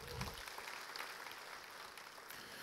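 Faint audience applause at a Christmas church service, a brief wash of scattered clapping from a distant crowd with no voices over it.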